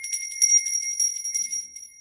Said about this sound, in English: this is my little traveling bell